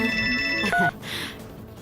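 A phone ringtone plays in a Telugu TV serial scene: a bright electronic melody of sustained tones for under a second, then a short higher two-note phrase before it cuts off, with faint room sound after.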